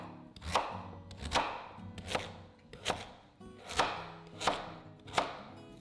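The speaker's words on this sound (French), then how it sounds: "Puis on les coupe en 4 avant de les débiter en cubes." Seven heavy, evenly spaced knife chops cutting sweet potatoes into chunky cubes on a board, close and loud with a short ring after each blow and no voices.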